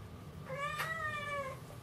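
A cat gives a single drawn-out meow, fairly close but soft, rising and then falling, over a quiet indoor room with no talking.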